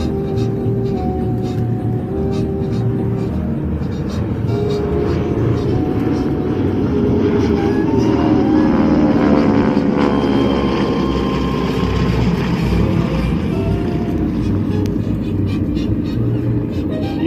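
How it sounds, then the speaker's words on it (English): A propeller-driven warbird, its radial Pratt & Whitney engine droning loudly, sweeps past on a strafing run at an airshow; a steady, powerful roar swells toward the middle and holds throughout without talk. "You can clearly hear the propeller on that pass."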